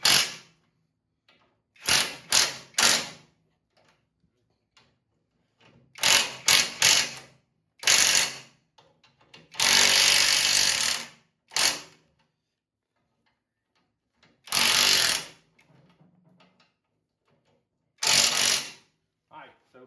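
Bolts on a meter socket of a Baja build being snugged with a ratchet, bursts of rapid clicking ratcheting repeated about ten times with pauses between, close and fairly loud, no talking.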